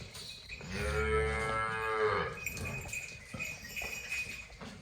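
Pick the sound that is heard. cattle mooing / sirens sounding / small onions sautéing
cattle mooing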